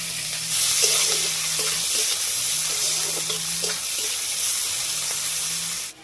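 Onions frying in hot oil in a wok (kadai) make a dense, steady sizzle close by, with a low hum repeating underneath and no one speaking, ending abruptly.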